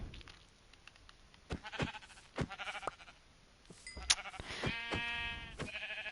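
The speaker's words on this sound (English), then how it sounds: "Oh, and sheep. I don't really quite need the sheep yet." Sheep in Minecraft Bedrock bleat several times in short, wavering calls, some nearer and louder than others, over a quiet background.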